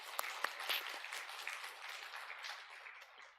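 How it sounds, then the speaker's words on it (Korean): A church congregation applauding its choir after a hymn, a faint, somewhat distant patter of many hands with a few crisp individual claps near the start, fading gently toward the end. "잘했다 박수 한번 치겠습니다"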